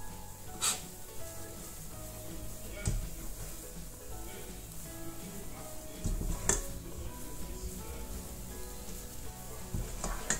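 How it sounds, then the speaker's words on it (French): Churro dough being stirred in a pan over very low heat, heard as a soft continuous sizzle with occasional scraping and sharp utensil clinks against the pan, close and quiet, with no talking. "Je remue le tout environ 1 à 2 minutes encore avant de l'enlever."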